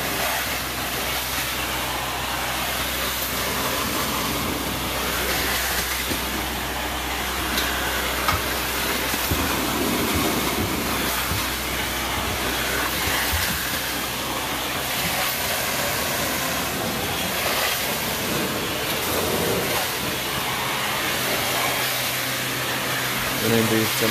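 A carpet cleaning machine makes passes over white carpet, a loud steady roar of suction and hiss that runs continuously throughout, close by.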